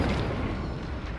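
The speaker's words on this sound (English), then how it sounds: "Deploy frag grenade" A frag grenade goes off in the video game Warhammer 40K: Space Marines 2, a single heavy rumbling blast that fills the moment and slowly decays.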